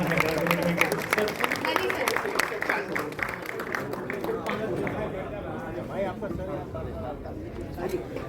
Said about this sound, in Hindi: उनके लिए और जोरदार तालियां